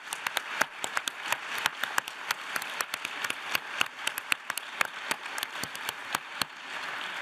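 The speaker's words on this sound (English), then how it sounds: "Can we give them a round of applause" Audience applause for a homemade backyard time machine at a conference talk: dense, steady clapping from many hands with sharp individual claps standing out, sustained for several seconds.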